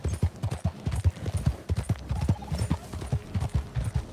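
Horse hooves clip-clopping in a video game while riding, a steady rapid trotting rhythm of close, hollow knocks running throughout, with faint voices underneath.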